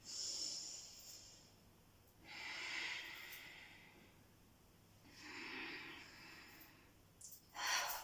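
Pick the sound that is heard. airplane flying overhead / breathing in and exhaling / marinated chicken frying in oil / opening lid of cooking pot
breathing in and exhaling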